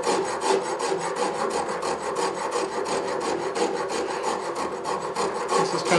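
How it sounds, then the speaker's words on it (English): A rasp files down wood on a hand carving, tapering a bowl-shaped area in quick repeated rough scraping strokes, close and steady. "So I think it's easiest to do that with a rasp."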